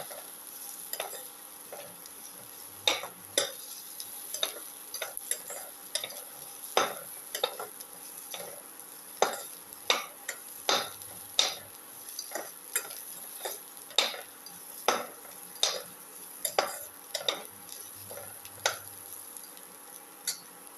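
Onions frying in a pan, a soft, steady sizzle with a spoon stirring them in regular, clicking strokes roughly every second, close and fairly quiet.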